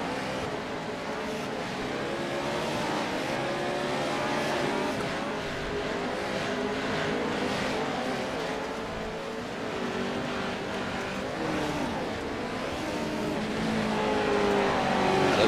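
Racing trucks roaring around a dirt track at Wild West Motorsports Park in a racing video game, a steady dense engine drone with revving and tire noise throughout, no talk.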